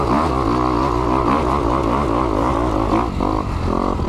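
Kawasaki 2021 KX 250X dirt bike riding over choppy ground, a steady loud engine drone with shifting revs throughout, dipping briefly near the end.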